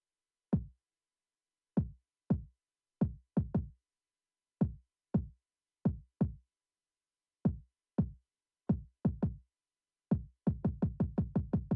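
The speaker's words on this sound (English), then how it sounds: "And the kick pattern sounds like this" A punchy, dry kick drum plays alone in a sparse, syncopated pattern that tracks an 808 bassline, each hit short and booming with clear gaps between, closing with a fast rolling run of repeated kicks.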